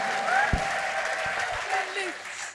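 An audience at a religious gathering claps enthusiastically, a dense, sustained wash of applause with a voice speaking over it.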